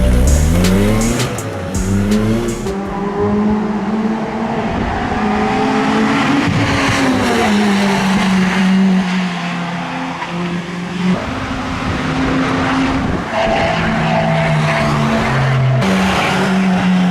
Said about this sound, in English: So apparently going out on the track in this with Baz isn't scary enough